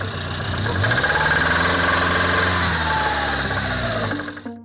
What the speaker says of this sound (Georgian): ეგრეთ წოდებული სტუკის ხმა